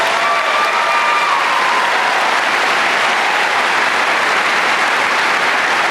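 A large crowd at a high school graduation commencement gives loud, dense, sustained applause for scholarship students, continuous clapping throughout with light cheering.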